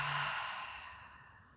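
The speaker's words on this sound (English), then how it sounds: "Exhale out the mouth." A single long, airy exhale out the mouth during restorative yoga, close and soft, fading gradually, with no talking.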